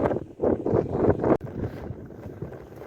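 Wind at the Sudarshan Setu bridge to Bet Dwarka buffets the microphone in loud low gusts, then eases to a softer, steady rush.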